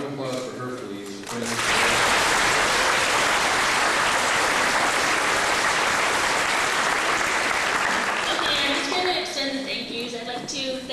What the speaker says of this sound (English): So a round of applause for her, please.